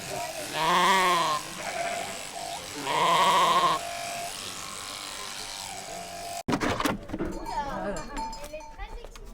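A ewe bleats twice, loud and wavering, while being sheared, then a buzzing electric shearing clipper and scuffling handling noises take over, with people speaking faintly in the background.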